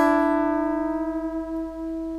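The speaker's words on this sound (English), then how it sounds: "another way that you can practice this is with what's called unison bends" A unison string bend on an electric guitar, with two notes ringing together as one is pushed up to match the other, held as a single clean sustained tone that slowly fades and wavers.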